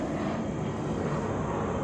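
An airplane flies overhead outdoors, a loud, steady, broadband engine roar that holds constant through the whole short stretch with no talking.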